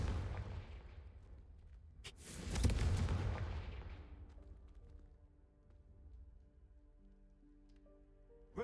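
A fiery blast spell detonates in the Hogwarts Legacy game world, one loud broadband boom that swells and rolls off over a couple of seconds, then fades into sustained musical tones.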